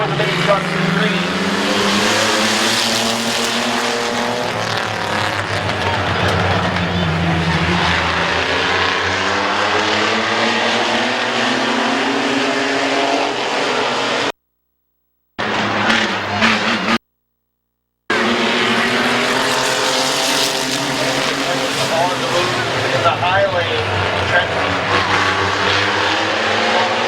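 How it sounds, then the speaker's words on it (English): Mini trucks run an 8-lap heat race at Midvale Speedway, their engines blaring loud and steady with rising and falling pitch as they circle, broken by two brief silent gaps, while an announcer talks over them. "8-lap heat race for the mini trucks in green"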